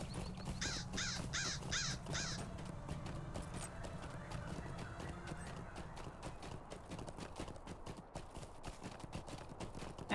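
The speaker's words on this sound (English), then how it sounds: "I have some bird chasing me." In LOTRO's Eregion region, a hostile bird caws while chasing the player, and hooves clip-clop steadily throughout amid dense outdoor game ambience.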